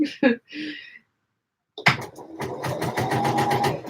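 A sewing machine stitches bias binding, starting after a brief pause and then running in a steady, close mechanical whir. Short vocal sounds come just before it.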